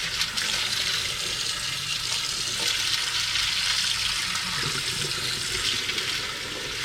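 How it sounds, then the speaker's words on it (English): Hot water running while silver crystals are rinsed during refining, with flux pieces in the mix, a steady hissing splash of flowing water, fairly loud and unbroken from start to finish. "Rinse it out with some hot water here."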